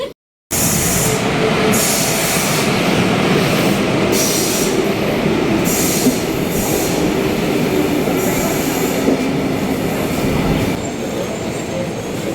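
A double-decker passenger train between Brussels and Liège rolls along with a loud, continuous rumble, punctuated by repeated bursts of high wheel squeal and faint clatter, heard from inside.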